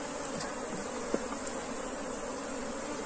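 A small, calm bee swarm buzzes in a rustic hive box built from plain boards, a steady dense drone close by with no voices.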